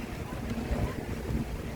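Wind gusting across the open Bang Phra reservoir, a low, muffled rumble buffeting the microphone, fairly quiet and continuous with slight swells.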